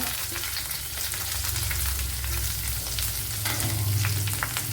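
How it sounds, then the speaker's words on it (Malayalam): A large chopped onion frying in oil in a pan for brinjal thoran, giving an even, close crackling sizzle that holds steady for several seconds without any speech. "അതിലേക്ക് ഇനി സവാള ഇട്ട് കൊടുക്കാം"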